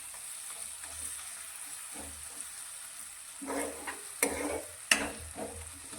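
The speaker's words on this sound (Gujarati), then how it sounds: "આ રીતે પ્રેસ કરી અને તેને એકદમ ઝીણા કરી લઈશું" Softened tomatoes are pressed and mashed in a cooking pan over a faint sizzle, with a few soft squelching presses and sharper scrapes of a utensil against the metal, close up and without talk.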